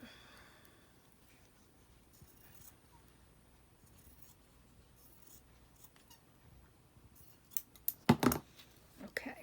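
Scissors cut out fabric pieces for hand piecing a quilt block. Faint snipping and rustling give way to a cluster of sharper, closer cuts near the end, in a quiet room.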